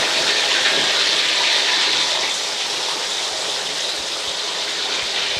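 Shallots and garlic frying in hot oil for an Indonesian sambal, a loud, steady, close sizzle that continues unbroken with no voices.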